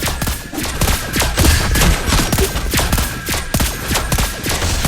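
Gunfire effects for the sniper character Lesley in Mobile Legends ranked mode, a dense rapid barrage of loud sharp shots firing continuously without a pause.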